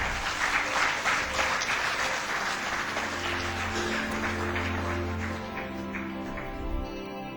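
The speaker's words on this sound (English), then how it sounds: "The panel does deserve a round of applause from you." A conference audience applauds a panel, a dense, steady wash of many hands clapping that swells early and then slowly tapers off, with faint murmuring underneath.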